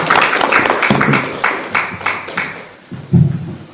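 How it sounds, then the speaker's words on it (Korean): An audience at a Democratic Party campaign event for a Chuncheon mayoral candidate claps in a few loose bursts that rise and fade across a few seconds, fairly close and with no one talking over it. "다시 한번 박수 부탁드리겠습니다."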